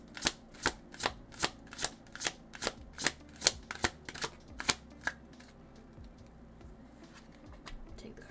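A deck of tarot cards being handled and shuffled, producing a steady run of about a dozen crisp, evenly spaced riffling snaps up close, then trailing off into softer rustling and slides.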